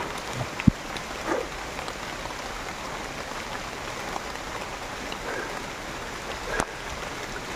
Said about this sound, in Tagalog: grabe, sobrang lakas ng ulan